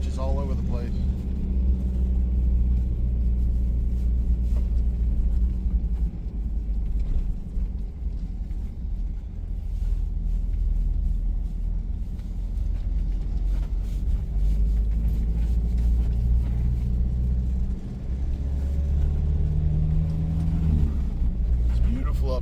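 A Toyota Land Cruiser 70 Series rolls along a snowy, icy mountain dirt road, its engine and tires a steady low cabin rumble that runs underneath people chatting inside.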